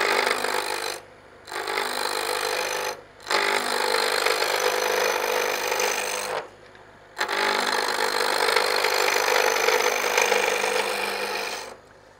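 A wood lathe spins a wooden spatula blank of long-grain wood at about 1500 rpm while a tool scrapes it, giving a steady broadband rasping hiss in long runs broken by three short pauses, close and alone.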